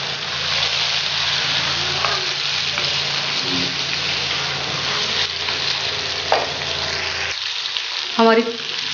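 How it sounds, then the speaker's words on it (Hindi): Chopped ginger sizzling in a karahi of charsi chicken karahi, a steady, close, hissing fry with soft stirring scrapes and a brief louder sputter near the end. "कटी हुई अदरक डालेंगे इसमें"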